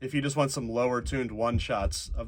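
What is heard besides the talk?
No distinct noise like a dog, phone or traffic.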